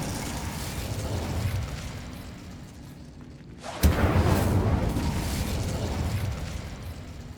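A sudden fiery burst in Hogwarts Legacy as the Incendio fire spell is cast, a sharp onset giving way to a loud, sustained crackling roar over steady game ambience.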